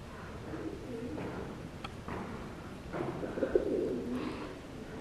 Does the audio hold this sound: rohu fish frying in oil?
no